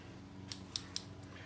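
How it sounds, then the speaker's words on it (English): Scissors snip through a marked plastic splitter for a painted RC drag-racing Corvette body, making three crisp, close cuts in quick succession with no talking. "you can get your scissors out"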